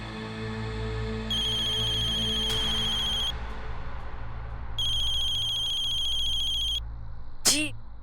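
Electronic phone ringtone rings in two sustained bursts separated by a short pause, loud and close over a steady low background hum, with a brief chirp near the end.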